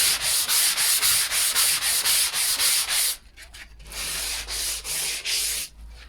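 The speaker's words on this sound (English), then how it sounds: "If you sand one bit, just sand a bit around it" Hand sanding of a hospital bed head or footboard with 120-grit paper before primer: quick rhythmic back-and-forth strokes, loud and close, a short pause, then more strokes.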